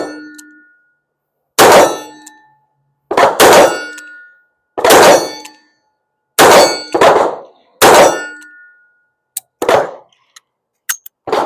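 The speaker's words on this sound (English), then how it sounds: "Let's shoot this 3-inch from back here." A 3-inch revolver fires single action at steel targets: about seven loud, sharp reports spaced a second or more apart, each followed by a bright metallic clang and ring, then a few fainter ticks.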